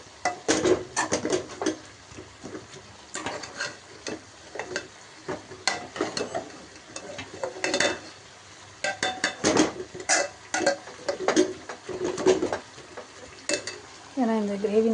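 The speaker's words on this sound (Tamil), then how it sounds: "மிளகாத்தூள் போட்டு நம்ம ஃப்ரை பண்ண நம்ம கிளறி விட்டுக்கிட்டே இருக்கணும்" Chicken gravy with chili powder frying in a pan while being stirred steadily: continuous sizzling with frequent scraping and clinking of a spoon against the pot, close and fairly loud, with no talking.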